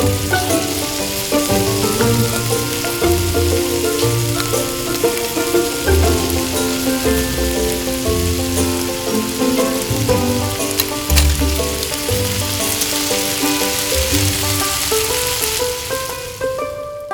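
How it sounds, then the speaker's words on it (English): Octopus pieces fry on a tiny grill, giving a continuous close sizzle that holds steady throughout, with light music playing underneath. "Fry until both sides of the octopus are burnt"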